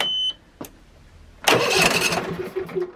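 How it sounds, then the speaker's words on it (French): A B&G Intek 7220 lawnmower engine cranks briefly, then catches at about the halfway point and runs loudly and roughly, close by, with no talking. "on fait démarrer le moteur, on le laisse tourner quelques secondes"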